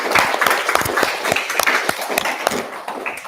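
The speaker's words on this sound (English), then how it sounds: "A big round of applause" An audience at a secondary school debate contest final applauds a speaker with a short, lively burst of many hands clapping nearby, brief and uneven.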